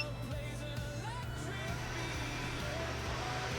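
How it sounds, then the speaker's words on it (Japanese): A kitchen range hood fan in a camper van drones throughout with a constant low mechanical whir, running close by while oil smokes in a frying pan, steady and unbroken with faint clatter over it. "油、煙出てきたからね、換気扇いきますよ"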